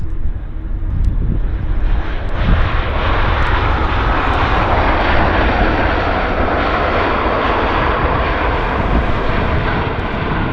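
A CRJ jet airliner roars loudly on a wet runway at Vancouver airport, its broad engine rumble and hiss of spray holding steady and close for several seconds, with no voices.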